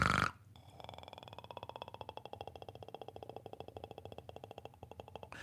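A jaw harp played live imitates the snoring-like grunt a catfish makes when pulled from water, a steady buzzing drone pulsing in quick regular rhythm for about five seconds, close and fairly quiet, with no talk over it.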